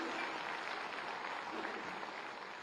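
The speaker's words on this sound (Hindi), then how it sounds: "जोरदार तालियों से आप मंचासीन समस्त अतिथियों का स्वागत करें" Loud, sustained applause from a large audience at the opening ceremony of the Khadi Mahotsav 2025 in Lucknow, welcoming the guests seated on stage; a dense, steady clatter of clapping that runs the whole time without letting up.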